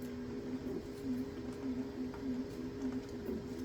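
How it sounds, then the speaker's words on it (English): A 3D printer hums steadily in the background with a low droning tone and faint periodic motor whirs, quiet and continuous in a room. "I have a 3D printer, which y'all might hear running in the background of this video"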